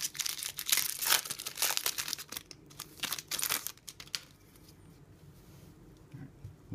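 Close, loud foil crinkling and tearing as a Magic: The Gathering Fate Reforged booster pack is ripped open, a flurry of crackling rips for about four seconds before it drops to quiet rustling.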